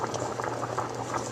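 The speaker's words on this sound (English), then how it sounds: "this boiling is very nice here" Water at a rolling boil, heated by a Mini Ductor induction coil drawing 600 watts, a dense continuous bubbling and popping, close and steady with no voices.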